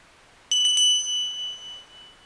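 A very old bell with an angel figure, bought at a flea market, struck about three times in quick succession, ringing bright and clear, then sustaining a long, pure tone that slowly fades.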